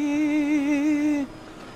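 Audi GT race car engine in the Assetto Corsa Competizione racing game, a steady strong harmonic drone holding pitch for over a second, then cutting off abruptly to a quiet hiss.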